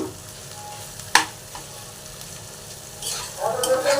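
Grated paneer drops into a frying pan already holding pointed gourd. A quiet sizzle carries a sharp clatter early on, then swells into a louder, busier frying hiss.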